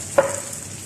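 Red sweet peppers drop into a hot frying pan for an egg breakfast dish, a single sharp sizzle burst that quickly settles into a faint steady frying hiss.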